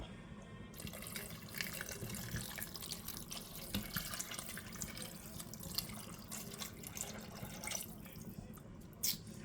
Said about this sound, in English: And then you put the beef broth on top.